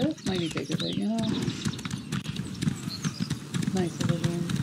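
Horse hooves clip-clop in a steady trot in the Elder Scrolls Online game, with someone talking over the hoofbeats and brief game sound effects mixed in.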